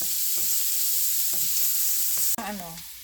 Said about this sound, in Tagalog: Sibuyas, marami ding sibuyas. Ayan, gigisahin natin.